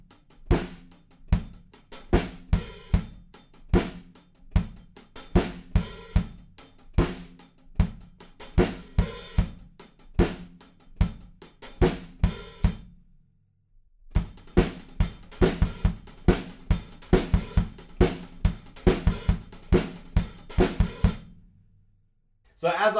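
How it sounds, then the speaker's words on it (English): A rock drum kit plays the driving intro beat of a song, with strong accents and a short sizzled hi-hat on the end of four, loud and close, stopping briefly before the groove resumes. "the accents and the little sizzled hi-hat on the end of four"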